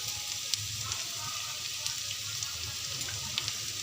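Bottle gourd peel fries in a pan with salt and turmeric, a soft, fairly quiet sizzle with a few small stirring clicks, no voices.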